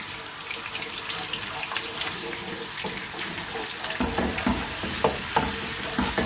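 Steady sizzling and crackling of ginger-garlic frying in hot oil for prawn biryani, with occasional clinks and stirring sounds toward the end.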